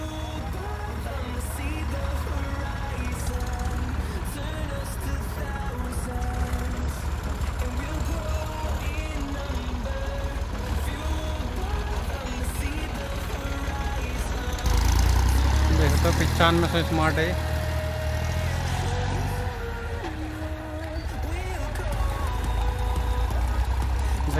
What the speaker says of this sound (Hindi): बहुत स्लो RPM पे ट्रैक्टर की पावर देख रहे हैं